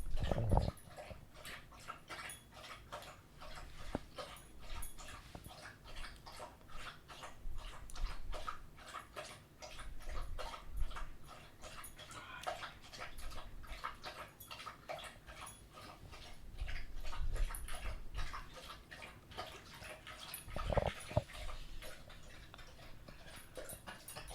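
A dog whimpers and whines softly off and on, faint and close, with quiet ticking-like sounds in the background.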